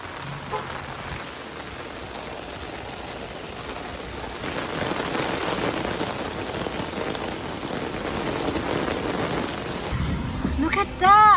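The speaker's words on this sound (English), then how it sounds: "It's raining a lot. So much." Heavy rain pours steadily onto a street in traffic, a dense continuous hiss of drops that swells slightly, with a brief voice near the end.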